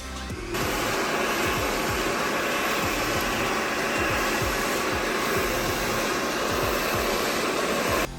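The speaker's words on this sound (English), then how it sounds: "blow dry the beard completely straight before you trim it" A hair dryer blows a beard straight before a trim, a loud, steady whooshing roar that switches on after a brief pause and runs continuously for the rest of the clip, with no voices.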